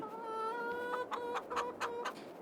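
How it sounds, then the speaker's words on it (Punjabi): Chickens on a poultry farm in Farming Simulator cluck in a steady, close, tonal stream, with several sharper clucks bunching toward the end. "ਇਹ ਸਾਰੀਆਂ 360 ਮੁਰਗੀਆਂ ਆਪਾਂ ਪਾਈਆਂ"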